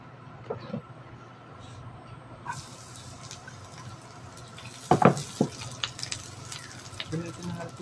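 Garlic sautéing in oil gives a steady, soft sizzle, with a few louder clatters of stirring partway through, while someone talks over the cooking.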